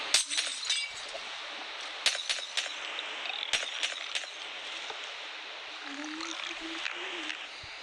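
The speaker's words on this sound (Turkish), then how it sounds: "Ben kendi kendime cam kırıyorum." Glass is broken by hand, with a run of sharp clinks and shattering cracks spread over several seconds, fairly faint, with a low voice murmuring in between.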